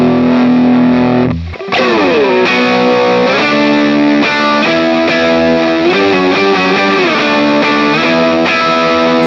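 Loud, heavily distorted electric guitar riff through a JHS pedal in AmpliTube 5, with sliding, sustained chords and thick fuzzy tone, played alone after a brief pause.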